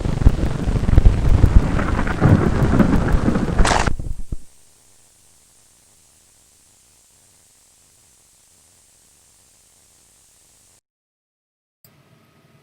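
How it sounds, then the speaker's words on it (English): A thunderstorm heard in a film plays loud: dense rain hiss and rumbling thunder last about four seconds, then cut off abruptly into near silence. "the rumbling of the thunder"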